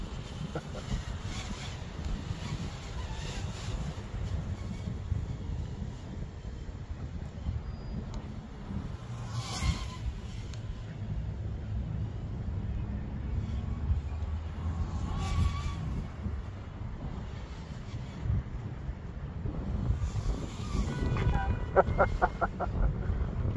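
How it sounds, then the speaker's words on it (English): Strong wind gusts buffet a microphone outdoors during a tri-blade drone test flight, a steady low roaring rumble that swells at times, with a faint high whine near the end. "The wind really picked up."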